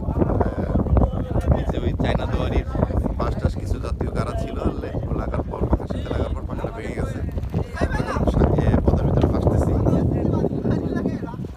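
A motorized trawler boat crosses the Padma river, its engine drone steady and close beneath gusty wind buffeting the microphone.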